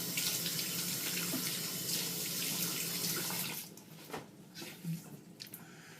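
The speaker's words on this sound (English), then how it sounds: "The first step, you're supposed to get your face wet with warm water." Warm water pours from a bathroom sink tap for face wetting before a shave, a steady close rush that cuts off partway, followed by splashing and drips.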